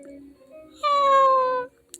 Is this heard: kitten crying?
yes